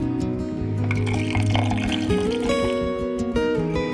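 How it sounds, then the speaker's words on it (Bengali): Milk poured into a finely ground oats paste, a steady liquid pour running continuously and close by for a few seconds over faint background hum, with no talking. "এবার না অল্প একটু দুধ দিয়ে দেবো"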